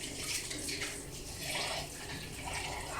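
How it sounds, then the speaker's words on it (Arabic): Water splashing and running from a container into a metal baking tray holding roast chicken in a kitchen, a steady close pouring rush with gentle gurgling swells across the few seconds, no voices. "نحط في الصينيه ميه"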